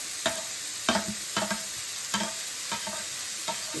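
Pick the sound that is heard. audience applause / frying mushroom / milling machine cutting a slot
frying mushroom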